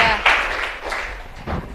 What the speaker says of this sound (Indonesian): Tepuk tangan untuk Devara.